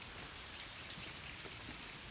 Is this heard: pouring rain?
yes